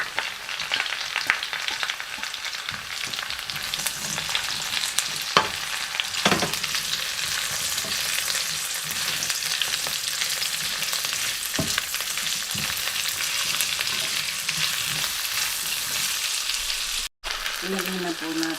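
Celery and onion sauté in a hot pan for an octopus dish, giving a steady, loud sizzle throughout with a few sharper crackles and brief stirring clatter, and no talking.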